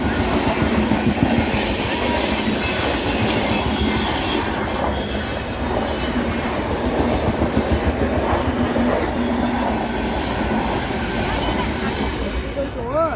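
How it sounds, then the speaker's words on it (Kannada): A train rolls along a railway track beside a dirt road near Babaleshwar, rumbling and clattering steadily and loudly at close range, with wheel squeals near the end, while people shout over it. "ಹಾ ಜಲ್ದಿ ರೈಲ್ವೆ ಬತ್ತೇನ್ರಿ?"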